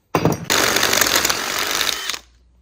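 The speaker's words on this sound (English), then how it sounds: "doing it with the drill bit like that, it's sort of worked because it hasn't touched any of the metal around the outside" A drill bit grinds through brass on 100-year-old car brakes, a loud, steady buzzing whine that starts with a brief burst, runs continuously for about two seconds, then cuts off abruptly.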